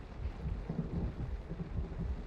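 Low, continuous thunder rolling through a stormy soundscape with rain-like hiss, heavy and unbroken for the full stretch, with no voices over it.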